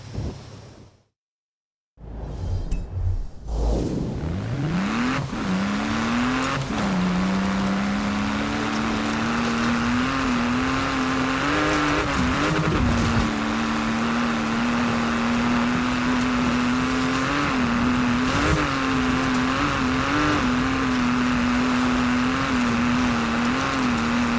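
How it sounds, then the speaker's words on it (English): A Porsche Macan Turbo engine droning steadily in Forza Horizon 4 during an offroad hill climb, revving up after a brief silence and then holding a loud, continuous engine note with slight pitch wobbles and a rushing, noisy background. "this is a mighty powerful car and I don't know if it's going to have good traction because Porsche is a track car"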